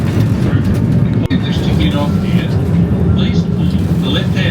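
A steady rumble and rattle of a tram rolling along rails in Bendigo, Australia, with faint squeals and a brief clunk, as a voice speaks over it.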